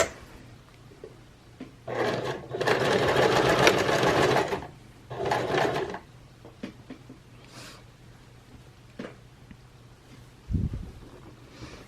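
A sewing machine stitches the seam of a zippered pillow cover, with several short whirring runs of varying length separated by pauses, close and moderately loud, with faint handling noises in between.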